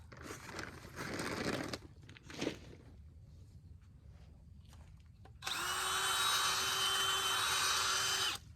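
A power drill fitted with an auger spins in a pot of compost and soil, first in a short gritty burst, then after a pause in a loud, steady whir lasting several seconds.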